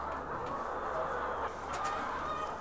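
A flock of organic laying hens of the dual-purpose Sandy breed murmuring and clucking together inside a barn, a dense steady chorus from many birds close by.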